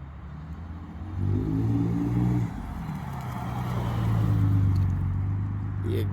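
A 2008 Ford F150 XL with a 4.2 V6 and a new exhaust tip drives nearby outside a muffler shop, with a low engine drone that revs up, eases off, then swells again.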